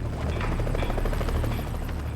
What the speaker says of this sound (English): Time after time, the helicopter is forced back.